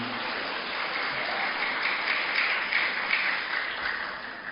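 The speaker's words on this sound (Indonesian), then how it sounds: "Tepuk tangan untuk anak-anak semuanya." Applause for sixth-grade graduates at an elementary school graduation ceremony in Malang: dense, steady clapping from a crowd, swelling slightly in the middle and easing toward the end.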